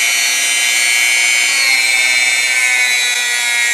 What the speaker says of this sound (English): And I'm using Dremel as a same way one would use Kleenex. It's a rotary tool.